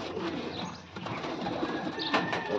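A male Blue Dumba pigeon coos close by, low soft murmurs running through steady background noise with a brief brighter call near the end.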